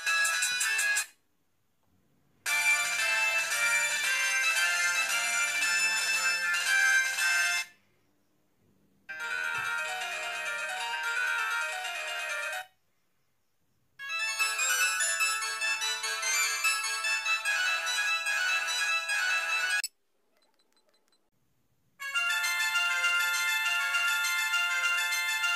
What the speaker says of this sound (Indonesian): Yang pertama kita cek buat nada ring panggilan masuk ya.